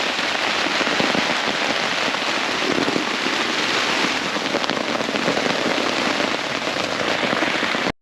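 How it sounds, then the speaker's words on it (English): Heavy rain and wind batter an open Caterham 7 sports car during a drive on Scotland's NC500, a loud, dense, continuous roar of rain and rushing air with no pauses. "I'm sure the noise is absolutely terrible because it's raining"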